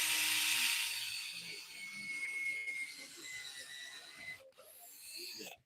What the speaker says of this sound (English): And I'm just letting the drill do the work.